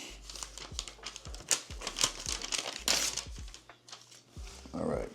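A sheet of paper is pulled out and crinkled by hand during a blind bourbon whiskey tasting, giving a continuous run of close, crackling rustles with a few sharper crunches.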